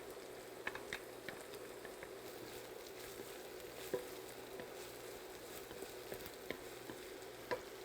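Green onion and chili sauté in a pan for egg fried rice, a soft, steady sizzle with occasional faint spatula taps and crackles, quiet and close, with no voices.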